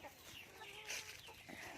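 Grown roosters and hens on a poultry farm cluck and murmur softly at a distance, a quiet, uneven chatter of fowl with no talking.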